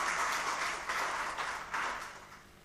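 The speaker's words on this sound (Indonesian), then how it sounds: "Kita kasih aplaus untuk paslon nomor 3 dan nomor 4." An audience at a regency head candidate debate in South Bengkulu applauds candidates 3 and 4, with a moderate swell of clapping that rises in several waves and then fades out.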